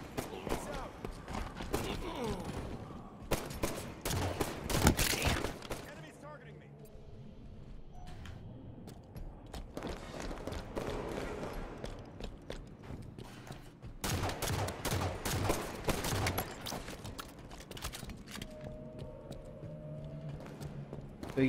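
Gunfire in Halo 5 multiplayer, loud sporadic bursts and rapid volleys of shots at close range mixed with game effects, with a voice talking over parts of it.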